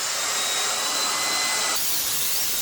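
Heat gun blowing hot air onto skateboard griptape, a steady loud whooshing hiss with a slight whine, up close and alone, its tone shifting partway through.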